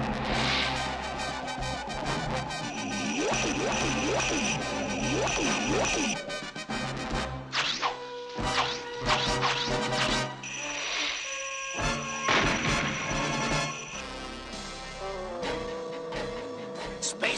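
Cartoon sound effects as a time satellite is destroyed in a 1981 Space Ghost animated episode: a long run of zapping, warbling electronic sweeps and bursts, with repeated rising and falling tones and sudden crashes, loud and busy throughout.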